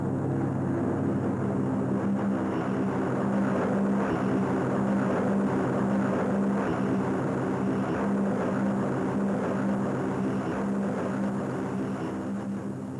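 A B-36 bomber, powered by both piston engines and jet engines, roars at length in a steady, loud droning hum with a propeller throb underneath.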